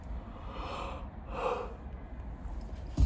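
A person yawns, a drawn-out breathy inhale swelling into an open-mouthed exhale, then a quieter second breath, all fairly close with no words spoken.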